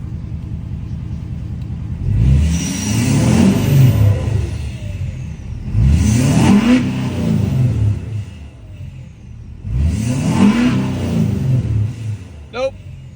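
Ford F450 truck engine revving in three distinct bursts about four seconds apart, a loud close rumble climbing in pitch each time and settling back between, checked for a whining noise under boost.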